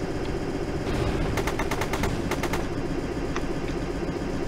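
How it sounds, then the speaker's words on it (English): Warship gunfire in the Stormworks video game, a loud burst of rapid repeated shots over a constant engine-like rumble, then a few scattered later reports. "you guys see, they're shooting at me"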